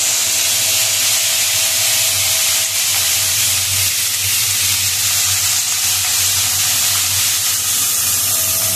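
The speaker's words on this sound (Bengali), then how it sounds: "কপিটা একটু নাড়াচাড়া করে নেবো।" Cauliflower stir-frying in oil with cumin seeds produces a loud, continuous, close hiss and sizzle that stays steady throughout.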